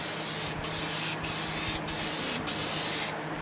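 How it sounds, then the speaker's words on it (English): A spray can is laying paint onto an Evo 9 trunk in five steady, evenly spaced hissing bursts, each lasting about half a second, close and loud with short pauses between them. "let's start spraying."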